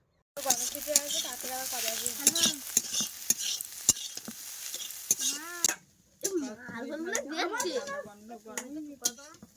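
Cauliflower and potato pieces tossed into a hot wok with onion already fried red: strong sizzling and stirring with clanks of utensils against the pan, while someone speaks and a child chatters throughout.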